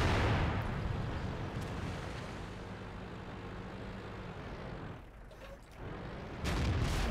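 Tank cannon shot in World of Tanks, a heavy boom at the start that decays into a long, low rumble with engine drone underneath, then a second loud blast near the end.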